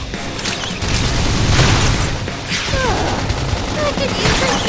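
A grenade goes off in the sci-fi action RPG Xenoblade Chronicles X, a heavy booming burst amid busy combat noise, with voices talking over the fight.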